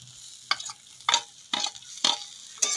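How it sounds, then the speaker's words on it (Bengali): Green beans being stir-fried with crisp fried onions in a pan for a Bangladeshi mashed bean dish, giving five bursts of scraping and sizzling about half a second apart over a faint low hum. "পেঁয়াজটা দিয়েও খুব ভালোভাবে এটাকে কষিয়ে নেব।"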